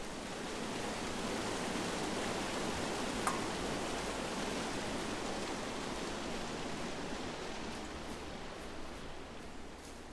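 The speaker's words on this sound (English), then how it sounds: "It's a really nice waterfall down here." A waterfall in the video game Firewatch, a steady, even rush of falling water that holds at a constant level throughout with no voices.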